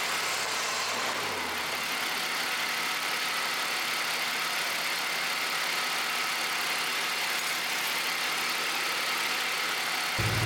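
A Jaguar XJ6 engine idles steadily and evenly at close range, a continuous mid-pitched hum with no revving, lasting unchanged for around ten seconds before a slight bump at the very end.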